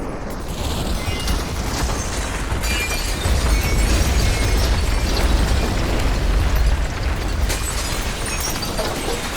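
Layered earthquake rumble sound effect, a dense continuous low roar with crackling, debris-like bursts shifting throughout, loud and unbroken for the whole stretch.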